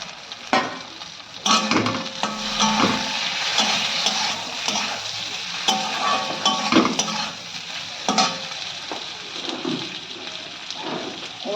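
Sizzling and stirring as beans and garlic are tipped into spice paste frying in oil, a steady hiss broken by scraping stir strokes and clunks close by, with no talk.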